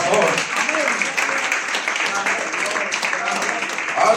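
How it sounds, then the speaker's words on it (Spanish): Church congregation applauding the Lord during a service: moderate, continuous clapping, with voices and exclamations mixed in over it. "Denle un aplauso al Señor, por favor."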